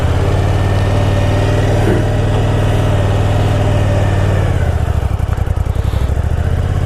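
A 2014 Triumph America motorcycle engine runs steadily up close in a loud, continuous low throb, shifting to a rougher, pulsing rumble near the end as it revs.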